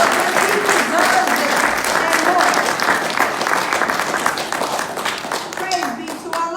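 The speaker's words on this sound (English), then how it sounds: "Let's give the Honorable Minister Louis Farrakhan a round of applause" A large audience applauds Minister Louis Farrakhan in a sustained, loud wave of clapping that holds steady for several seconds, with a few voices and murmurs mixed into the crowd.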